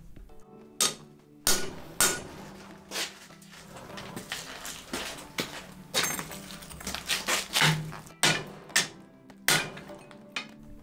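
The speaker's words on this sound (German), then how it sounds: "Da sehe ich, wie ich mit der Finne vom Hammer Querkerben einschlage." A hammer's peen strikes cross notches into folded Damascus steel, now at 64 layers, for a Torsionsdamast tanto blade, giving sharp metallic blows in irregular clusters, loud and close, with a brief voice speaking at the start.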